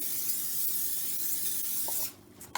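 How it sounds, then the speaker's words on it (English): A continuous close hiss of cooking spray onto a hot pan runs for about two seconds, then stops, followed by a couple of faint clicks. "Okay, I'm going to spray"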